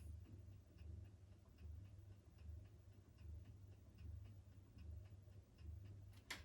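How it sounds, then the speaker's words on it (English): Regular, even ticking from a second ceiling fan running in a room, a faint mechanical tick repeating about once a second over a low steady hum, with no voices. "that ticking that you're hearing is not this fan, it's the other fan"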